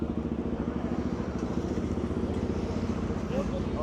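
Several idling motorcycles sit in a group ride lineup, including KTM ADV 390s, Ronins, Meteors, Hunters and a CV350 RS, producing a steady, loud engine rumble with rapid pulsing throughout.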